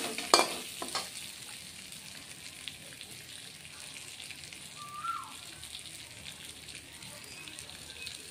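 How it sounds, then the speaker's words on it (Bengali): Potatoes frying in a pan on low heat give a soft, quiet sizzle throughout. A brief utensil clatter comes near the start and a small clink around the middle. "আঁচটা একদম কমিয়ে দিয়েছি, নাহলে আলু ভাজাটা না ভালোভাবে হবে না।"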